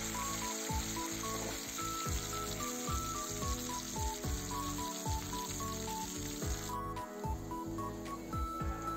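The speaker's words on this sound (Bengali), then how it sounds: "এবার আমরা উচ্ছে ভেজে নেব।" Bitter gourd frying in hot oil for a Bengali milk-based sukto, a steady loud sizzle throughout with periodic bubbling bursts and scraping thumps, no voices.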